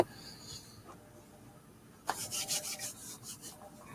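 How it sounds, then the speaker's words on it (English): Dry brisk rubbing of two palms together, a run of soft scratchy strokes starting midway and continuing for about two seconds, close and fairly quiet after a near-silent room. "I'm doing the Birdman hand rub."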